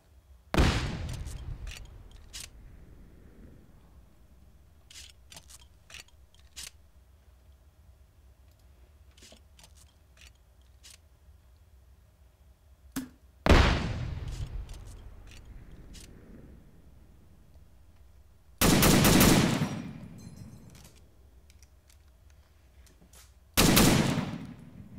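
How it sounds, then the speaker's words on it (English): A grenade launcher fires in Unsung, a few sharp loud booming blasts spaced seconds apart, each trailing off into rumble, with faint clicks and clacks between shots and no voices. "Let's try it with a grenade launcher."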